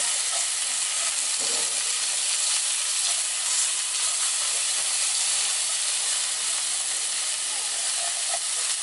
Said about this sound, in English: you want to get the onions going for probably 2 or 3 minutes, just until they get soft and a little translucent